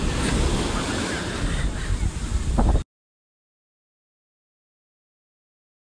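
Ocean surf on a California beach, with waves washing in loud and close under steady wind noise for about three seconds before the sound cuts off to silence.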